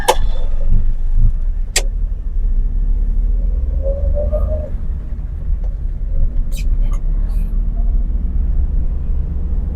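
A car with a manual gearbox pulls away in first gear after a stop, giving a steady low engine rumble throughout. A voice talks over the engine.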